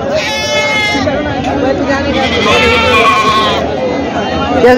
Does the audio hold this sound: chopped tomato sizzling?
no